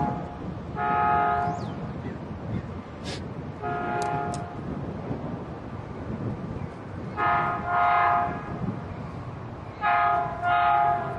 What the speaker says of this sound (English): here we'll watch the train here too.